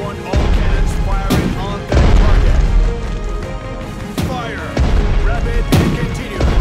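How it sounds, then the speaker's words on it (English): Cannon fire from the WWII strategy game Strategic Mind: Blitzkrieg, a series of loud, heavy booms at roughly one-second intervals, each followed by rumbling debris and battle noise that fills the gaps. "I want all cannons firing."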